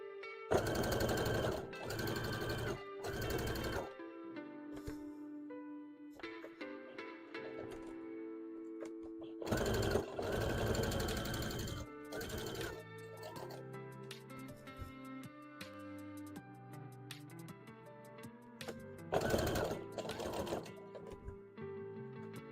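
A sewing machine stitches brown fabric for a tail, running in loud rapid bursts of a few seconds each, separated by quieter stretches with soft background sounds.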